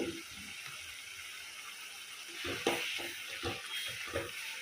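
Ginger-garlic paste fries for a prawn curry with a low, steady sizzle and bursts of stirring scrapes in the second half. The sound is close but fairly quiet.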